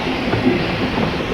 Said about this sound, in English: The Fairley is a very powerful locomotive for its size.